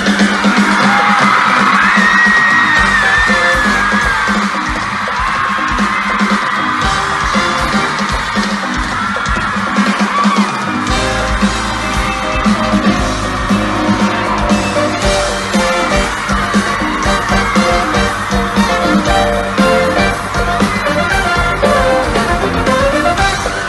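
At an outdoor concert in Castrelos, a large audience cheers, whoops and yells loudly. The noise is continuous and dense, with whistles and applause building throughout.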